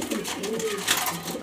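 Pigeons coo in the Alamin Pigeon Loft, a colorful flock whose low, rolling calls fill a brief stretch, with a faint breathy sound near the end.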